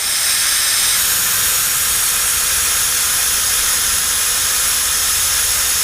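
A three-phase Speed Air compressor runs with a steady, loud hissing roar of air, continuous and close throughout with no voices.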